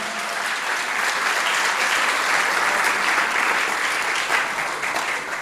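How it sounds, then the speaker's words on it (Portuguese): Church congregation applauding steadily throughout, a dense, even wash of many hands clapping at once with no break. "Você pode aplaudir a Jesus, Ele é bom estar aqui."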